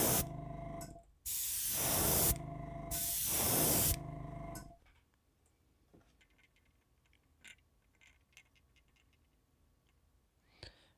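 An airbrush sprays titanium white base coat onto a Brood X cicada wake bait in three loud hissing bursts, followed by quiet with faint ticks and small clicks.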